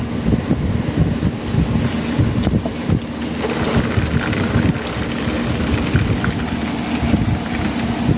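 Water drains and trickles from an indoor citrus plant pot, a steady close splashing and patter running without pause.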